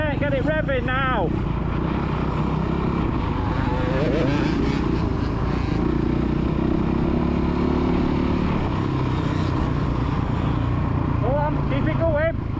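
A motocross bike ridden by a child on the main MX track revs loudly and continuously, its engine pitch rising and falling. A man calls out encouragement over the noise.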